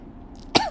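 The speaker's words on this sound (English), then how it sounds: "sorry guys, this is my cough" One short, sharp cough from a person, close and fairly loud, following a moment of near quiet.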